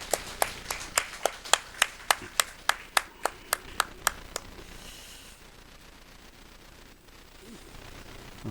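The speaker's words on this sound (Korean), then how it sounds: "우리 루디아 목장을 위해서 다시 한번 축복하며 박수하겠습니다" A congregation at a Sunday morning church service claps in unison, about fifteen crisp rhythmic claps at a steady beat that stop after roughly four seconds, leaving a quiet room tone.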